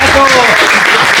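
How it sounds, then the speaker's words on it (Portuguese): Audience at a conference on loricariid catfish breaks into applause, a dense, close wash of many hands clapping that fills the brief moment. "uma salva de palmas para o Renato"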